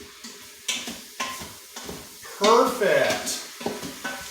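Onions stirred and sizzling in a pan for homemade chili, a steady fry hiss broken by scraping spoon strokes and a burst of louder sizzle midway, with a brief spoken word.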